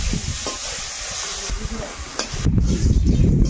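Garlic and panch phoron spices sizzle in hot oil, a loud continuous fry with hiss and crackle, stirring scrapes, and a burst of sharper sizzling near the end.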